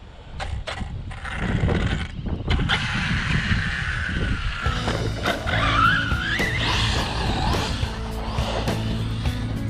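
An Arrma Kraton V4 6S RC monster truck with a 17-tooth pinion whines and revs nearby, its high electric motor pitch rising and falling through bursts of acceleration and tire scrub, continuous and loud throughout.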